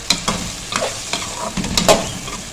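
Purslane leaves frying in spice masala in a pan, with a steady sizzle broken by several sharp scraping strokes of a spoon stirring the greens, close and clear with no talking.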